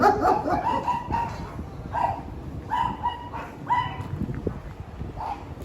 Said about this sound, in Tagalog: Ay, malaking aso yun nandito.